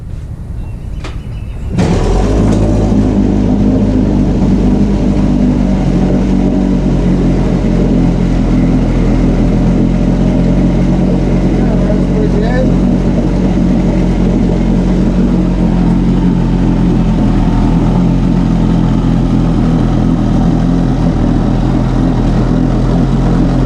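A 1971 Johnson 25 hp outboard motor starts up after carburetor work and then runs steadily at a loud, even idle for more than twenty seconds, with no talking over it.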